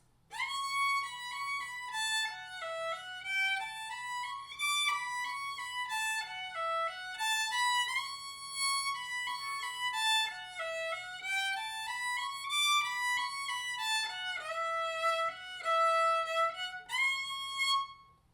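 A solo fiddle plays a flowing harmony line to "Spider Shoe" in third position, notes rising and falling smoothly in a steady phrase, clear and close with no voices.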